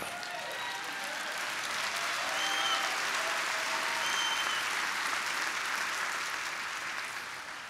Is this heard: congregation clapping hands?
yes